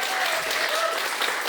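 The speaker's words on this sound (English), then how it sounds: "Let's give them a round of applause." Steady round of applause from a conference audience greeting a lighting industry panel, dense continuous clapping at even loudness throughout.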